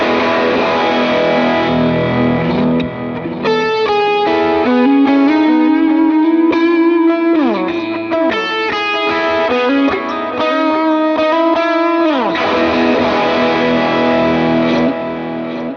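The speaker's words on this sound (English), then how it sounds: "If you put a little overdrive on it, it sounds like this." An electric Telecaster with overdrive in the series pickup position plays distorted chords and single-note riffs, loud and sustained with bends and a few pauses between phrases, and no voices.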